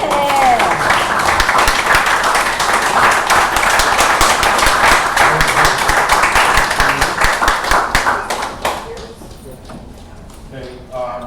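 Loud, dense applause from a crowd at an annual meeting, a steady clatter of many hands that holds for several seconds and then tapers off near the end.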